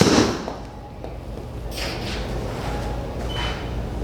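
A TaylorMade Stealth 2 driver strikes a golf ball with one sharp, loud crack at the start, followed by fainter rustling and thuds and a steady low background rumble.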